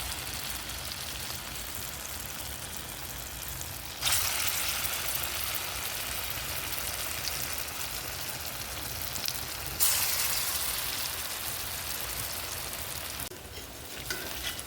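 Fritters frying in hot oil in a wok, a steady bright sizzle and crackle that swells louder twice as more batter goes in, with no talking.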